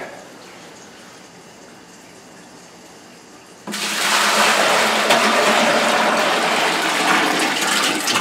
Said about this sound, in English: now I'm going to pour that into my 5-gallon bucket